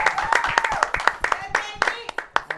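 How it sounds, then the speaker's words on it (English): Scattered clapping from a small live audience at a local talk show taping, a rapid uneven patter of hand claps that thins out, mixed with voices and cheers. "Let's hear a round of applause for Jaimie NERY."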